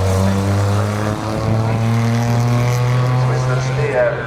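Rally car engines warm up in the paddock at the McRae Rally Challenge, a loud, steady, tonal drone that hums continuously at close range.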